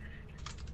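Quick keystrokes on a computer keyboard during a Lethal Company gaming session, a short burst of clicks over steady background hum, fairly faint.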